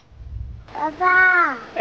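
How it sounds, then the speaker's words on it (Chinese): A crow caws outdoors during a 20-kilometre family hike: one harsh, drawn-out call sounds fairly close, while a child and an adult speak briefly around it. "听到了鸟叫声啊？"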